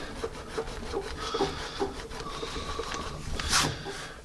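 A rubber eraser rubbing back and forth on paper, a close, rhythmic scratchy scrubbing with regular strokes and a louder swipe near the end.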